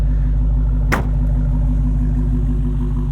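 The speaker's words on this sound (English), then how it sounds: "Exhaust sounds fantastic." Deep, steady exhaust rumble from an idling 2023 Dodge Charger Hellcat Widebody Jailbreak, a low throbbing drone with one brief click partway through.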